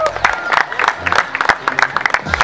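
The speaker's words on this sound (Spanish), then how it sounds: "Un aplauso para Gasto" A crowd at a freestyle rap competition applauds battle champion Gasto with loud, uneven, fairly sparse clapping in quick bursts, mixed with shouts and a speaking voice.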